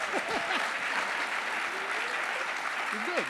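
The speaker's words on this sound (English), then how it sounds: "Give this man a round of applause" A crowd applauds steadily throughout, a dense wash of clapping with some whoops and cheers rising over it near the start and end.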